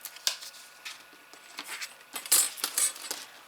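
Scissors cutting paper for a seed envelope album make a series of crisp, irregular snips and light metallic clicks, close and fairly quiet, with no talking.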